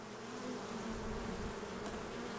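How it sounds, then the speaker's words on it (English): Honey bees buzz steadily at the landing board of a hive entrance fitted with a pollen trap, a dense, continuous close-up hum with no voices. "get those bees out of the way"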